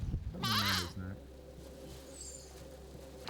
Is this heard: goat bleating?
yes